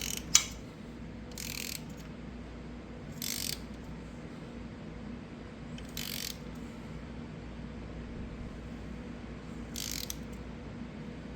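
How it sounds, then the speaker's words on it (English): A torque wrench ratchets on the bolts of a Ford 302 engine, producing a few separate bursts of quick clicking spaced several seconds apart over a steady low background hum. "So the torque is 22 foot-pounds. Alright, so now I'm going to start the torque sequence."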